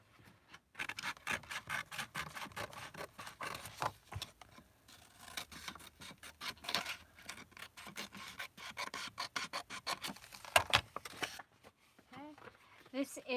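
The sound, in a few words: trimming down the side of cardboard or paper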